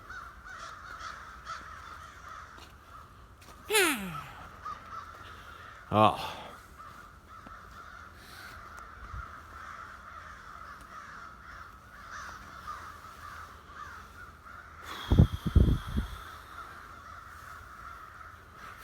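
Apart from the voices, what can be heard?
crows cawing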